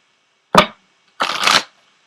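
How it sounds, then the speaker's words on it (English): Oracle cards from a deck shuffled and pulled, two quick close riffling bursts, a short flick followed by a longer shuffle, with silence around them. "I'm going to go ahead and pull an Ascended Masters card for you as well"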